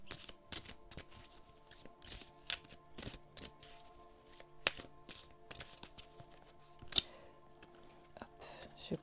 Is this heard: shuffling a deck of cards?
yes